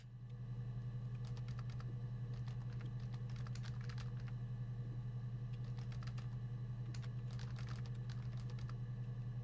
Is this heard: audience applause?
no